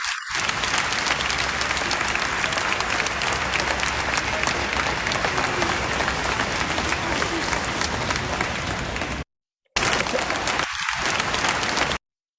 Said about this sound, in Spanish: Se vivió un gran aplauso del público